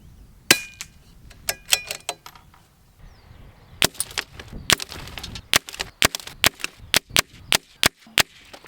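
A CZ 457 MDT ACC rimfire rifle fires a series of sharp, close shots at irregular intervals, more than a dozen cracks with quiet outdoor pauses between them.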